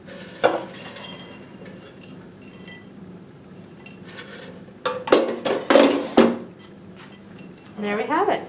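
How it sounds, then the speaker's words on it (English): Crispy air-fried fries tipped from the basket onto plates, giving a few close, sharp clinks and rattles of dish and utensil contact in bursts, with quieter kitchen sounds and a voice in between. "We'll put them onto the plates."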